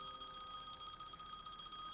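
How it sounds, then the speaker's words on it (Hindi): A telephone bell rings in a fast, steady trill, faint and continuous throughout. "तुम्हारा फोन बजी, घंटी बजी।"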